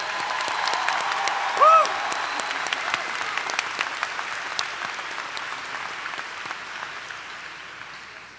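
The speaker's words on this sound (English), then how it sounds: "Another round of applause for Dr. Caldwell." Audience at a 2022 undergraduate commencement ceremony applauding, a dense, steady wash of clapping from many hands with a brief cheer early on, slowly fading toward the end.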